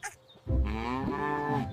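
A single long, loud cow moo from an animated farm cow, rising after a brief sound at the start and holding steady to the end.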